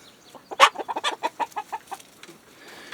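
Several chickens cluck in a quick, uneven series of short calls, fairly close, with one louder squawk early on and no talking.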